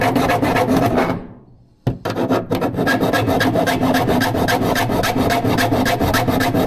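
A file rasps back and forth across metal in quick, even strokes, loud and close, stopping once briefly before the rhythmic scraping resumes.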